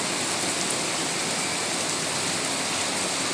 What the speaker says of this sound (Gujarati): એ ગરમી પ્રમાણે વરસાદ ચાલુ થઈ ગયો છે